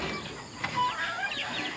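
Chickens and turkeys clucking and chirping inside a coop holding about fifteen laying hens, several soft overlapping calls close by over a steady background hiss, with no talking.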